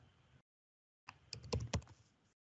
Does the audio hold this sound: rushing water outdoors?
no